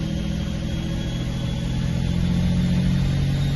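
A car engine revs up in third gear, a steady loud mid-pitched drone that climbs slightly as it accelerates, close and uninterrupted.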